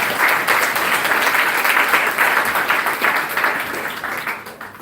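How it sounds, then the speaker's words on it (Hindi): A church fellowship congregation claps together indoors in a dense, sustained burst of applause, loud and close, easing off gradually toward the end. "ताली बजा देते फटाफट।"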